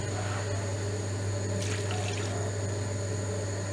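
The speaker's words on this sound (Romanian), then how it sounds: "punem un pahar de apă." A glass of water poured into a cooking dish during home meal preparation, heard as a steady, continuous wash of flowing liquid with a constant low hum underneath, fairly close and even in level throughout.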